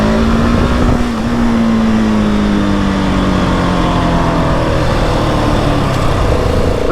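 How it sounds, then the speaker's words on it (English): A 2020 Husqvarna 701 SM motorcycle accelerating hard through the gears during a wheelie test: a loud, close single-cylinder engine roar that climbs steadily in pitch, sustained and alone. "Yeah, that's second gear clutch ups are butter smooth."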